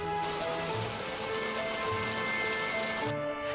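Rain falls steadily and densely on a surface in a steady hiss with faint musical tones threading underneath, and no voices, during a summer downpour over farmland.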